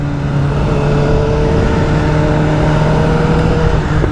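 A BMW M1000R motorcycle cruises at a steady road speed, its engine holding an even drone with wind rush, loud and constant throughout.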